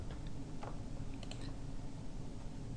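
A few faint, quick keystrokes tap on a computer keyboard while a search field is filled in, sparse clicks over a steady low hum.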